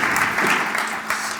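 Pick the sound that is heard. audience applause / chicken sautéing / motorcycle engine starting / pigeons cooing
audience applause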